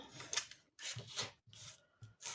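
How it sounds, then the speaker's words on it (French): A utility knife slices through material for a homemade perpetual calendar in several close, scraping strokes separated by short pauses, quiet and alone. "vous prenez le cutter. Enfin, moi, je le fais au cutter, perso."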